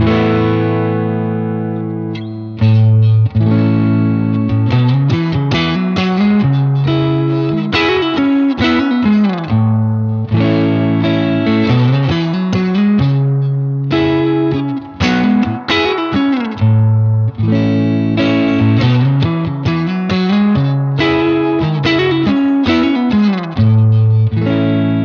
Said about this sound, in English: then we've got saturation and reverb all from that pedal without even really using the delay in it